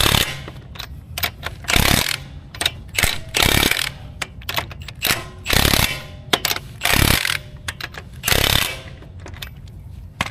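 A ratchet wrench clicks in repeated bursts while snugging brake bolts in a star pattern, each loud close run of rapid ratcheting separated by short pauses, with no talking.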